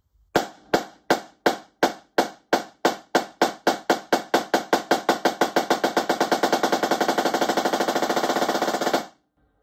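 Drumline snare played as single strokes with sticks, starting slow and loud, then steadily accelerating into a fast, even roll that ends abruptly; a drum rudiment exercise heard alone and close.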